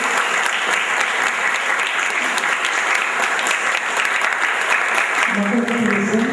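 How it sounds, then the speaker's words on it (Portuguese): Audience applause at a Brazilian short-story contest award ceremony, steady dense clapping filling the room throughout, with a voice briefly emerging near the end. "Bom, aplaudir, né, gente?"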